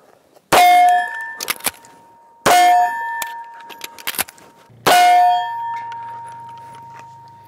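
Pistol live fire during a competition reload drill: three loud, sharp shots about two seconds apart, each followed by the ringing clang of a struck steel target that slowly fades, with faint clatter between shots.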